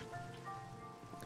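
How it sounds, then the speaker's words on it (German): Steady rain in Minecraft, a continuous close hiss of drops on surfaces with faint background music tones and no talking. "Warum regnet das eigentlich schon wieder?"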